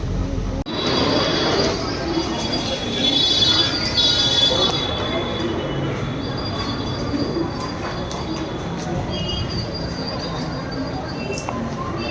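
Steady rumble of a moving train with high metallic wheel squeal running throughout, loud and close, with occasional voices and birds faintly in the background.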